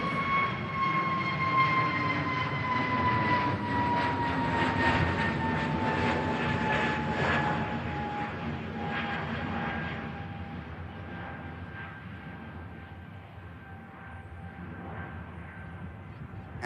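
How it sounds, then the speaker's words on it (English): An airliner climbing away from Manchester Airport on a flight to Geneva roars loudly, its whining engine tones sliding slowly downward as the sustained jet noise fades a little toward the end. "And rotating already. Straight out of here. The flight to Geneva."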